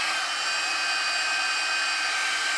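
A GHD Duet Style 2-in-1 hot air styler runs with a steady, even airflow whoosh, continuous and close, with no voices over it.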